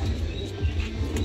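Breeding pairs of pigeons and their young coo continuously in a loft while feeding, a close, low, overlapping burbling.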